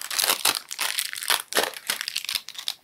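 A plastic packet of L.O.L. Surprise doll shoes crinkles and crackles close up as it is opened, a busy run of crisp rustles lasting a few seconds.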